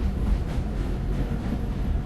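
An underground railway train in a GTA 5-style Indian bike video game rumbles steadily, a low continuous rolling roar with no voices.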